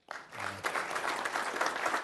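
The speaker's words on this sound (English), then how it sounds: "Let's give them a round of applause" A city council audience breaks into applause for standing military veterans, starting abruptly and continuing as a steady, moderately distant patter of many hands.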